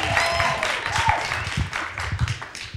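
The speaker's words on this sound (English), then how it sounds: "Give Mona a round of applause." An audience at a forum event gives a round of applause, a dense patter of clapping that runs under a voice speaking over it.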